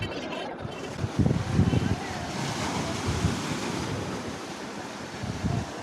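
Sea waves on the shore at Tiruchendur beach by the temple: a continuous rolling wash of surf with wind buffeting the microphone and a couple of louder surges, with faint voices.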